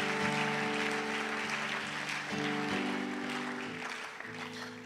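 Church congregation applauding together at a worship service, a steady broadband wash of clapping heard alongside sustained organ or keyboard chords that shift partway through.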